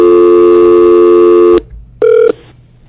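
A telephone call tone holds steady for about a second and a half, then a short, separate electronic beep follows after a brief pause. Both are loud and clear with no voices.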